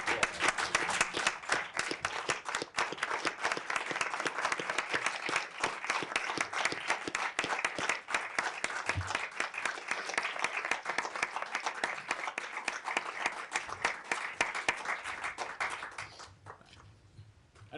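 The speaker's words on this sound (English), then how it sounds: "Quick round of applause." A sustained round of applause fills a State Department briefing room for roughly sixteen seconds, dense and steady, then fades out.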